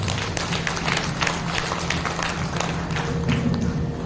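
A large seated crowd at a Bhagwat Katha devotional gathering in Mayur Vihar bursts into steady, dense applause, a continuous wash of many hands clapping together at even strength for the whole stretch, with no voice rising above it.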